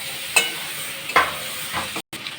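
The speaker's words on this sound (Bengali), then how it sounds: "এবার চিকেনটা দিয়ে কষবো।" Chicken fries in a pan with Kashmiri chilli powder, coriander powder, sugar and turmeric, a continuous near sizzle marked by three sharp spatula scrapes and stirs, with no talking.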